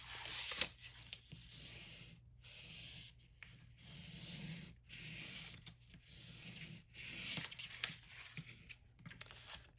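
Paper flap on a handmade winter log cabin shadowbox card being folded and creased, giving soft rubbing and scraping strokes in uneven bursts with short pauses between them, close and quiet, no talking.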